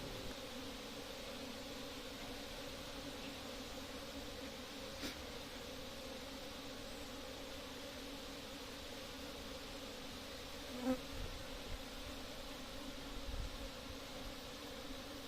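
Honeybees droning steadily throughout a honey hunt, a continuous faint buzzing hum with no talk, broken only by a couple of brief small knocks near the end.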